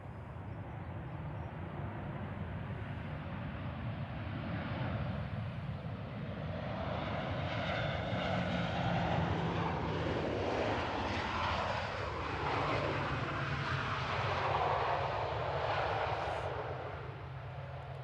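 A 16-year-old Ryanair Boeing 737-800 jet airliner at Manchester Airport rumbles at a distance, its engine roar building steadily and holding for a long stretch at moderate volume.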